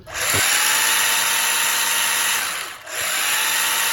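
A Feiyue FY-02 RC car's electric motor whines steadily in slow children's mode, a loud continuous high buzz that briefly dips near the end before resuming.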